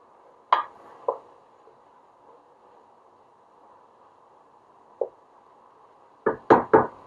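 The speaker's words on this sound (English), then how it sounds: "we're going to give that a stir" Seasoned ground meat gets stirred in a pan, heard as a few scattered knocks and scrapes of a utensil against metal over a faint background hum, with a cluster of louder clatters at the end.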